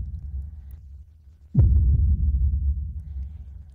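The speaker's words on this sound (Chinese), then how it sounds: "这是布达拉宫的心跳" A deep heartbeat sound effect used in a documentary about the Potala Palace in Lhasa, Tibet, enters after a quiet low hum as a single heavy thump followed by softer low throbbing pulses.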